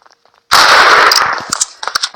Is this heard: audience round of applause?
no